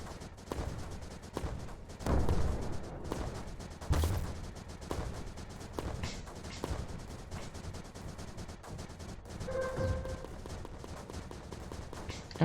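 Mortars firing in the video game Creeper World 4: a string of muffled booming thumps and rumbles spread across the span, some louder than others, under a steady game background with occasional speech.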